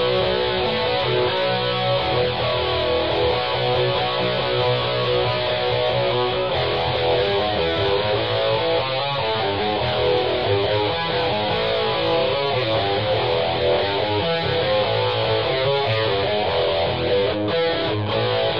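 A live electric guitar tone through a Rockman Sustainor touring setup, a dense, distorted and sustained sound playing continuously at an even, full loudness with no voices.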